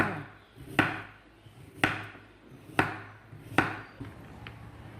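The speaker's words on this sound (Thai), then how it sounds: "หลังจากเราปอกมันแล้วนะคะหั่นมันเป็นแว่นบางๆค่ะ" Four sharp knife chops through a peeled sweet potato into thin rounds strike a cutting board at an even, unhurried pace, each a crisp thud with a short decay, no talking.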